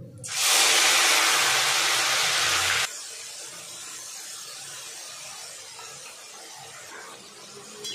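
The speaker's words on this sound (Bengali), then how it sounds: "তেল গরম হয়ে গেছে, এবার আমি আদা রসুন আর পেঁয়াজের পেস্টটা দিয়ে দেব।" Ginger, garlic and onion paste dropped into hot oil, bursting into a loud, sharp hiss that holds steady for about two seconds and then cuts down to a quieter, lingering sizzle.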